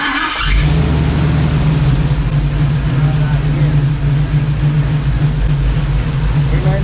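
A square body truck engine cranks and catches, then settles into a loud, steady idle with a strong low hum, while people talk nearby.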